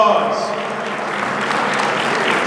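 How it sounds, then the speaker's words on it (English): A gala audience at the DuSable Heritage Association 25th anniversary gives Mr. Moller a round of applause, a dense, continuous wash of clapping that holds steady for a couple of seconds, with some voices mixed in. "Give him a nice round of applause."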